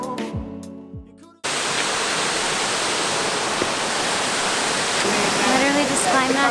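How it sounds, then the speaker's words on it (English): Waterfall at the Ring of Kerry, Ireland, roaring as a loud, steady broadband rush of falling water that starts abruptly after a short stretch of music and holds constant to the end. "Literally just climbed that waterfall."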